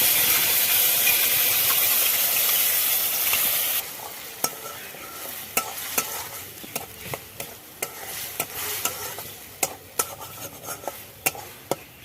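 Tomato paste fries in a spoonful of white oil for homemade pizza sauce. A loud, dense sizzle opens the clip, then drops to a softer steady fry with repeated sharp scrapes and clicks of stirring.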